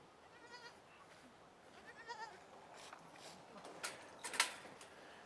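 Goats browsing invasive bittersweet outdoors let out a couple of faint, distant bleats over a low background hiss with scattered sounds of people.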